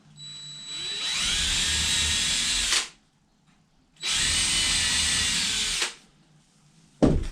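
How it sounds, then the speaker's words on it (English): A power drill pre-drills holes for a door knob installation: two sustained, high whirring bursts of about two seconds each, close up, separated by a short pause and ending with a brief knock. "I'm going to go ahead and pre-drill my centers"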